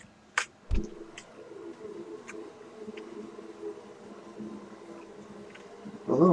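Bees buzz in the video game Second Life, a low steady drone that carries through most of the stretch, with a few faint clicks and sharper game sounds at the start and end.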